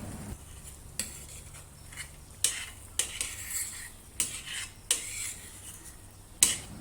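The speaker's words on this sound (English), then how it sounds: "Lastly, stir in some kasuri methi." Kasuri methi is stirred into a dum aloo gravy in a pan, with a spoon scraping and tapping the pan in irregular strokes over a soft, steady sizzle, close and alone.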